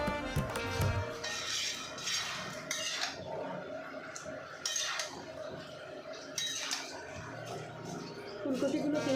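Violet cauliflower being stirred in a pan with a utensil, giving repeated clinks and scrapes of metal on metal at close range, while a voice talks over most of the stirring.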